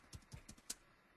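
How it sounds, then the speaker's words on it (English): Typing on a computer keyboard: four or five light, quick key clicks in an uneven rhythm, close and fairly quiet, with no talking. "I'm just typing hello from"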